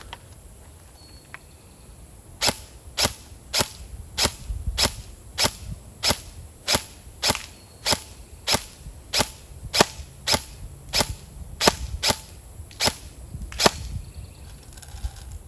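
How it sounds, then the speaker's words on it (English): A Lancer Tactical Gen2 Hybrid M4 airsoft gun fires 0.20g BBs at a target: about eighteen sharp, evenly spaced pops, each a crisp snap, steady for roughly twelve seconds with no talking. "we're going to take some shots at that target with the .20s and see how she does."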